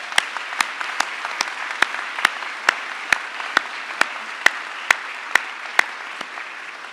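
Audience applause at a university graduation ceremony, a broad steady wash of many hands clapping with a few sharper individual claps popping out in a regular rhythm, sustained throughout without speech.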